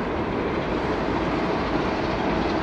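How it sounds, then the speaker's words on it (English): Passing trains, Class 377 and Class 465 electric units, rumble by as a dense, steady roar of wheels and rail noise, loud and continuous across the brief moment. "That you have a class 377, a 465, and another class 377 down there."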